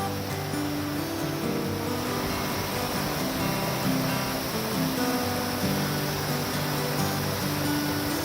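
A waterfall along the Appalachian Trail gives off a steady, unbroken rush of falling water, loud and close, with no voices over it.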